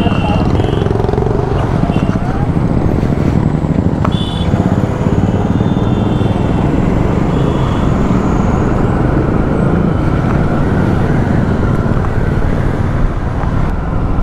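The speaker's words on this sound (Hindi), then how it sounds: "और ये अपनी बाइक्स का काफिला है" A convoy of Royal Enfield motorcycles on a Republic Day group ride along the road to Fatehpur Sikri: a loud, continuous engine drone with wind rush, and someone talking over it.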